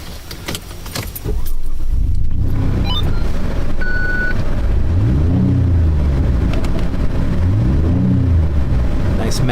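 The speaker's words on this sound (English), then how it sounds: "Nice MagnaFlow exhaust system." A car engine with a MagnaFlow exhaust system runs steadily, then revs up twice in rising, rumbling sweeps, loud and close, with a faint jingle of keys early on.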